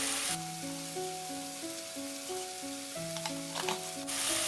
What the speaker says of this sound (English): Now I'll add a little bit of salt and give it a good mix.